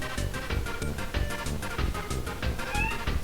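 A cat meows several times in close succession, fairly near and clear, with no talking over it.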